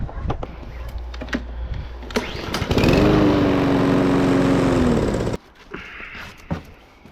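A petrol lawn mower's engine catches and runs loudly for a couple of seconds with a steady drone, then abruptly stalls into near silence, preceded and followed by handling clatter and rattles.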